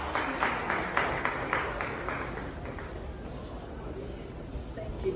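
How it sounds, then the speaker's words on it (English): Applause from an audience at a Ghanaian DVLA office commissioning ceremony in Akwatia, a burst of clapping that starts fairly strong and fades over a few seconds into a murmuring crowd. "A round of applause for him."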